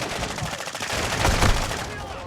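Rapid bursts of automatic gunfire from the Call of Duty DMZ video game, loud and nearly continuous, with dense overlapping shots.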